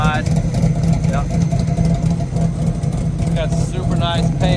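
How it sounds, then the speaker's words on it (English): A 1969 Chevrolet Camaro RS/SS with an aggressive cam idles with a deep, lumpy rumble throughout, close and loud, while someone talks over it. "Just a mean RS 69 Camaro. You hear it idling here."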